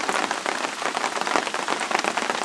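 Steady heavy rain patters densely on a forest campsite, a close, continuous hiss of countless drops with no voices.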